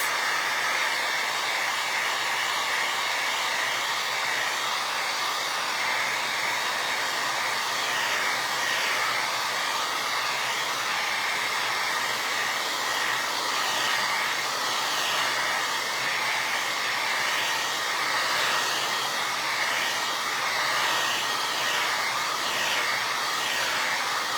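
A hair dryer blowing steadily to dry decoupage on a vinyl record for Christmas and farmhouse home decor, a loud continuous whooshing hum that holds unchanged throughout.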